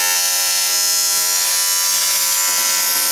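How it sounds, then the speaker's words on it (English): A tack weld is laid onto a 2mm metal airbox lid for a Toyota Land Cruiser FJ45/80 series 4x4, giving a loud, continuous electric buzz close by that holds for several seconds. "Now we can go ahead and weld the lid onto the box."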